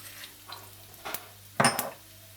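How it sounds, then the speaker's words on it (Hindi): Fennel, cumin and mustard seeds hit hot oil in a pan, giving a soft scrape and then a sudden bright sizzle with crackles that fades, close and unaccompanied by talk. "इसमें आप डाल दीजिए सौंफ, सफेद जीरा, राई"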